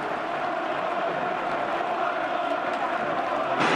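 West Bromwich Albion football supporters roar and cheer in a steady, dense crowd wash as fans pour onto the pitch, loud and continuous with a brief surge at the end.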